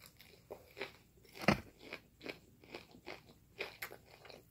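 Close, crisp crunching and biting on cheesy tots from Sonic, several separate bites and chews in an uneven rhythm, with one especially loud crunch in the middle.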